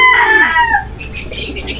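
A chicken gives a short, loud burst of clucking up close, a quick run of sharp calls with some chirping behind, then a few softer clucks trailing off.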